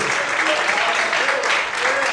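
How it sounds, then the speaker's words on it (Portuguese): A church congregation applauds in praise, a dense, even wash of many hands clapping together that stays steady and fairly loud for a couple of seconds. "Você pode mais uma vez aplaudir ao Senhor"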